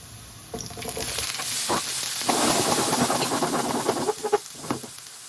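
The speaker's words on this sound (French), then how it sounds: "Je vais faire saisir l'ail. Là, je vais rajouter mes tomates cerises que j'ai coupées en deux." Garlic and halved cherry tomatoes sear in a hot pan with a steady, close sizzle that swells as the tomatoes go in, broken by crackles, spits and stirring noises, with no talking.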